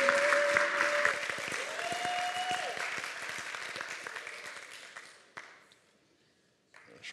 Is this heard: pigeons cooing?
no